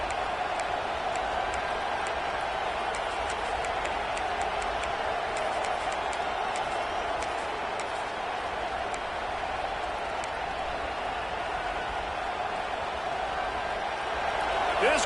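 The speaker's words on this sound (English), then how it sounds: "This crowd bringing the energy and noise early." A stadium crowd in an Alabama vs Indiana college football video game keeps up a steady, broad roar throughout, loud and unbroken and heard on its own without commentary.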